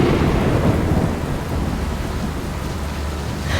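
Heavy rain pours down alongside a deep, rolling rumble of thunder, a dense, loud storm with no voices.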